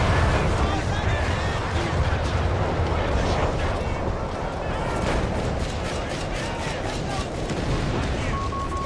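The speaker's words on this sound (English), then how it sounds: "it's a fucking bombing run." A bombing run in Company of Heroes 3: a dense barrage of heavy explosions and rumbling blasts that overlap into a loud, continuous roar across the whole stretch.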